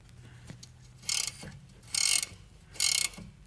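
A hand ratchet tightens a rear strut bolt on a Toyota Venza, three loud bursts of rapid clicking spaced about a second apart, with faint thumps and handling noise between them and no voices.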